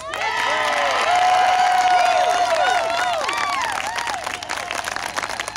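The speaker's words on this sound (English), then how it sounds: "I need the biggest round of applause that you can muster up for Tea Party Express." A rally crowd in West Virginia greets Tea Party Express with loud sustained applause, cheering and high whoops. The dense, close roar swells quickly, then slowly thins.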